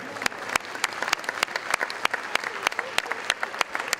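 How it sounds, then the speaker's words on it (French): Audience applause at a rugby league tribute evening, a steady mid-level wash of clapping with sharper individual claps standing out throughout, no talk over it. "on peut l'applaudir chaleureusement."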